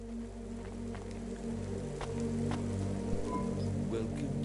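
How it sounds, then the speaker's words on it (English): Steady rain patters across a surface in a PS4 video game, a continuous wash of droplets with low ambient hum underneath and occasional brief taps. "Don't let all the rain get you down."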